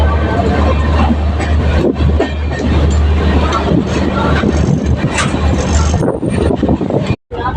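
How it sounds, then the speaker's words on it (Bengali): A passenger train rolls out of Mathura Junction after a short halt, its rumble and wheel noise steady and close for several seconds before cutting out briefly near the end. Someone talks over it. "ট্রেন ছেড়ে দিয়েছে"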